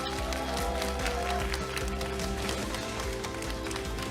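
Audience clapping at a Democratic Party political concert in Daegu, a dense steady patter of many hands sustained throughout, with a low musical hum underneath.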